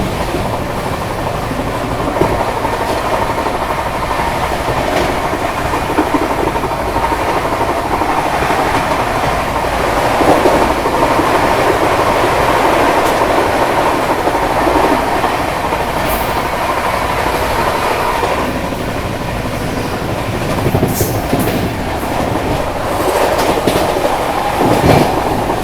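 The Poorvottar Sampark Kranti express rolls steadily at 130 km/h on its Delhi to Guwahati run, heard from on board as a loud, continuous rumble with rhythmic clickety-clack of wheels over rail joints and occasional faint squeals.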